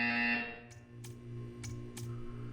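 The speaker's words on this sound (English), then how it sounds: "You will hear a buzzer." A tone fades out, then several short electronic buzzes sound at regular intervals over a low background hum in Portal 2.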